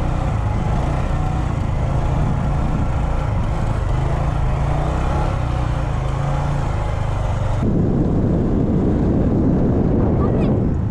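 A Honda Grom motorcycle ridden solo, its small engine droning steadily with heavy wind rush, then the tone shifts lower partway through as the ride continues.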